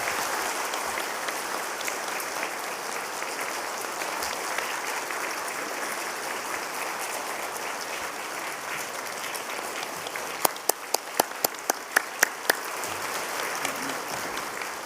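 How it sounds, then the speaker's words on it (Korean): A church congregation gives warm, sustained applause during a Sunday service, a steady wash of clapping throughout with a few sharper, louder claps standing out near the end. "뜨거운 박수로 격려해 주시면 감사하겠습니다."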